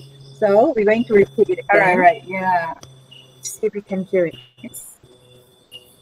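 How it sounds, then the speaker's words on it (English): Recorded crickets chirping at night in a forest are played back, giving faint, short, high chirps that surface a few times beneath people talking nearby. "And this is the sound of the cricket."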